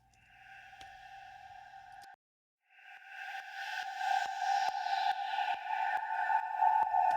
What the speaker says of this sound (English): You can hear the click from the sidechain.